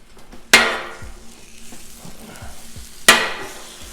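Frozen ground beef dropped onto a hot Blackstone griddle, with two sharp loud sizzling bursts as the meat hits the flat top, a steady frying hiss and soft scraping stirs of a spatula in between, no talking.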